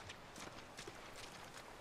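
Rhythmic clip-clop of horse hooves trotting at a steady pace in a video game, fairly quiet with a faint ambient background.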